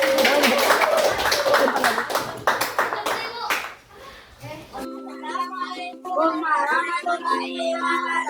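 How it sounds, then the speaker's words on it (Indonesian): A classroom group of children breaks into brisk clapping that fades out after a few seconds, followed by a voice speaking. "Kasih tepuk tangan dulu dong buat kelompok 4."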